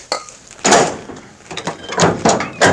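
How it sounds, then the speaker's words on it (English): A Chevy pickup tailgate, freshly greased at its hinges, opens with several close, loud clunks and creaks in an irregular sequence, with no talking. "But yeah, it opens up nice now."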